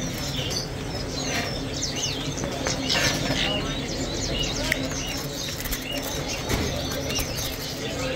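Caged canaries at a Baghdad bird market chirp and trill in a busy crowd, with bursts of song and wing flutters over constant background chatter.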